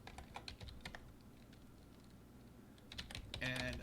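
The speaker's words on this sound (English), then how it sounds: "you can type in a username" Typing a username on a computer keyboard, close rapid key clicks in two bursts with a quieter gap between them over low background noise.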